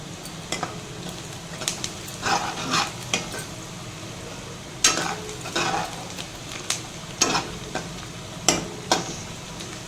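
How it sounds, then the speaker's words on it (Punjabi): Chillies and thinly sliced onion hit hot tempering oil in a pan, giving a steady sizzle broken by repeated scraping stirs of a spoon, close by and with no talking. "ਹੁਣ ਮਿਰਚਾਂ ਪਾ ਦਾਂਗੇ ਨਾਲ ਹੀ ਪਾ ਦਾਂਗੇ ਪਤਲਾ ਪਾਵਾਂਗੇ ਪਿਆਜ਼ ਜੀ"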